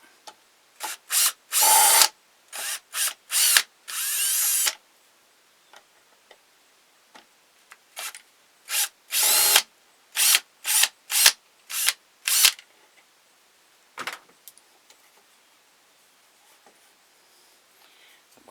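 A power drill unscrews screws from the mouth of a wooden Santa ventriloquist dummy: about a dozen short, close whirring bursts of varying length separated by pauses, with no talking.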